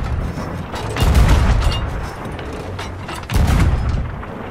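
Heavy cannon blasts aimed at a pirate ship in a video game, two booming bursts about two seconds apart, each followed by a rumbling tail over constant background noise.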